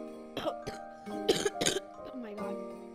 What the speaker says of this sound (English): I'm getting insanely coughing.